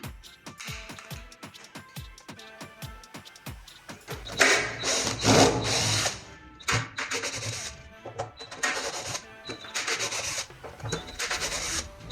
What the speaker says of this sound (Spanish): primero lo que tenemos que hacer nosotros es sacar los tornillos que pusimos